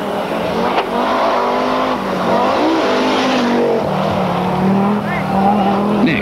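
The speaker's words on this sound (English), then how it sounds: "Second Quattro man and Swedish winner Stig Blomqvist." An Audi Quattro rally car races past on a gravel stage at the 1000 Lakes Rally, its engine rising and falling through gear changes, loud and close while a commentator talks over it.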